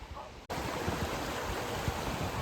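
A river rushes steadily nearby, its broad continuous wash of water filling the scene after a brief dip at the start, with no voices present.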